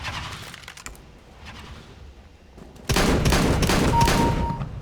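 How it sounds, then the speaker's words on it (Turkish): Gunfire in Counter-Strike: Global Offensive, a few scattered distant shots early on, then a sudden loud burst of rapid overlapping fire that continues to the end. "Ben de sıkıyorum, siz de sıkıyorsunuz."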